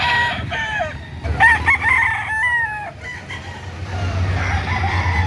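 Several roosters crow in overlapping calls at a poultry market, near and loud, amid clucking chickens and a low rumble of background noise.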